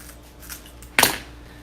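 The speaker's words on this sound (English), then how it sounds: "I'm just going to cut the rest off here." Scissors give one crisp, close snip, cutting off the excess end of the material while a gingerbread man wreath is made, after a moment of quiet handling.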